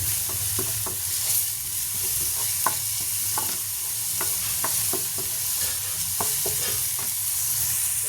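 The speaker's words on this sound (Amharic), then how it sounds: "እንደዚህ ነጭ ሽንኩርት ይጥብስ ካለ በኋላ ሽንኩርት ነው የምጨምረው።" Garlic fries in a hot pan while a utensil stirs it, giving a steady close sizzle broken by repeated sharp scraping strokes, with no talking.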